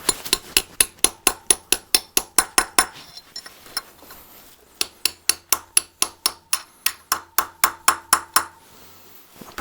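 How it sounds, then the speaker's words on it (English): A hammer strikes a punch to shape metal on a 1968 Regal rebuild, giving loud, sharp metallic blows in a steady rhythm, one burst of about fifteen hits, a short pause, then another long run. "we'll use the punch to get this one to shape"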